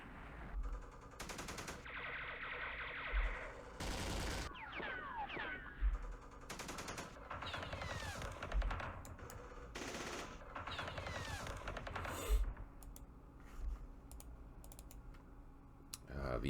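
Machine gun fire in the Vietnam war game Campaign Series Vietnam, Battle of Khe Sanh Village 1968, with repeated rattling bursts and sharp cracks over about sixteen seconds alongside mouse and keyboard clicks.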